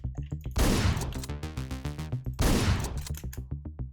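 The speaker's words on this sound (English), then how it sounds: "Shotgun." Shotgun blasts in the top-down video game Hotline Miami: two heavy booming shots about two seconds apart, each bursting loud over a thumping, pulsing electronic soundtrack.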